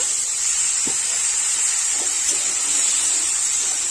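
Cut potatoes dropped into onion, chilli and tomato masala frying in a pan, giving a steady, fairly loud hiss and sizzle throughout with a few soft knocks, no talking.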